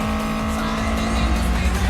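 A Toyota 86 engine screams at high revs during an anime mountain race, a continuous loud roar with repeated sweeping pitch changes and tyre noise.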